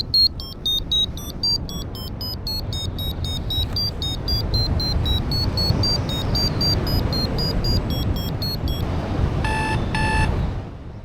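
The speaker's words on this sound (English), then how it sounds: "My phone made an airspace alarm." A phone's airspace alarm beeps in a steady repeating pattern throughout a paragliding flight over constant wind noise, ending in two brief brighter bursts.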